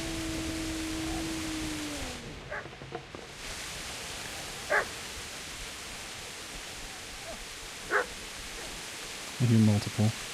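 Dogs in the medieval game Kingdom Come bark in a few short, sharp bursts over steady ambient noise, with a louder cluster of barks near the end.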